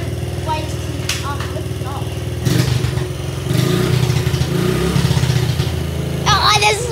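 A motorcycle engine idles with a rapid throbbing exhaust, then revs up in short bursts, close by, while people talk over it.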